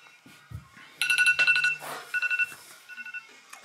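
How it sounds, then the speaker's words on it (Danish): Alarm clock ringing in short bursts of bright electronic tones, a long burst followed by several quicker pulses, close and clear in an otherwise quiet room. "Ringer vekker dere også."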